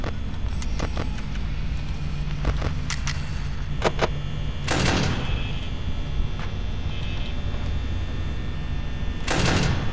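Security doors in the Five Nights at Freddy's game, with several sharp metallic clanks and two heavier sliding slams over a constant loud electrical hum.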